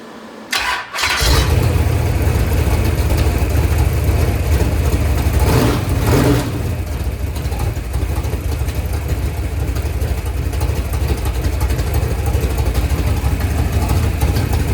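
A warm Mopar 580 stroker V8 cranks briefly, catches and roars to life, then settles into a loud, steady, rumbling idle with a short rev partway through.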